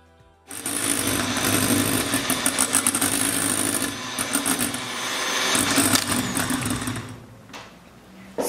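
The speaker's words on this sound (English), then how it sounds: "So now I'm going to start beating the egg whites" Electric hand mixer whirring steadily as it beats egg whites until stiff, a loud continuous motor buzz with rattling beaters that starts abruptly, runs for several seconds and then winds down near the end.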